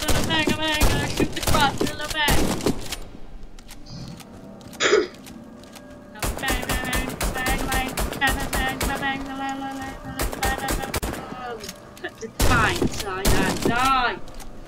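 Gunfire from the video game Warface rattles in three loud bursts of rapid automatic shots, broken by short gaps, with tonal game sounds mixed in between volleys.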